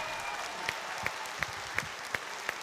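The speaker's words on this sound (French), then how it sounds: "Bravo, bravo, on l'applaudit bien fort." Audience applause at a graduation ceremony for apprentices at CFA Métropole Nice Côte d'Azur, a steady dense patter of many hands with a few sharper claps poking out at regular intervals.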